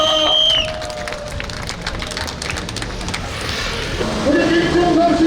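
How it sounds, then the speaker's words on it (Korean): Outdoor campaign rally crowd for the People Power Party in Gimcheon clapping and cheering, scattered applause under background noise, with a pitched announcing voice and music rising near the end. "박수 부탁드리겠습니다"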